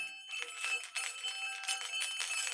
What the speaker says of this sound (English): It almost reminds me of like a shop doorbell of like a market